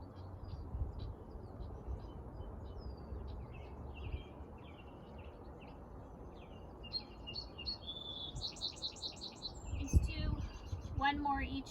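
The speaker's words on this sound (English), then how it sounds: "Our breath, some birds, nature." Birds chirp and twitter outdoors, soft at first and growing busier, over a low rumbling background hum.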